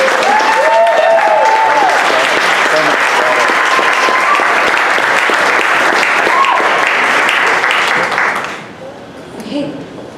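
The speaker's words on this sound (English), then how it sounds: "Another round of applause." An audience at a 1 Million Cups Dallas gathering gives a loud, sustained round of applause after a presentation. Thick, continuous clapping fills most of the stretch, then thins and fades out near the end.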